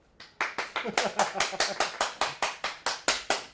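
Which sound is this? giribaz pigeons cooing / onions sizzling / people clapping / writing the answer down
people clapping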